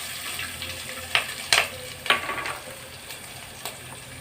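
Onion, green chili, carrot, dried red chili and curry leaves frying in oil, giving a steady light sizzle with a few sharp clinks of a spoon scraping the pan.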